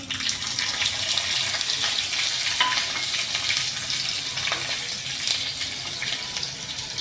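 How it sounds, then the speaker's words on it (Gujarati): Mustard seeds, curry leaves and green chillies crackle and sizzle in hot tempering oil for spinach and coriander dhokla, a continuous close hiss with scattered sharp pops and spits, steady throughout with no voices. "રાઈ સરસ તતડી ગઈ છે તો હવે લીમડાના પાન નાખશું મરચાં નાખશું"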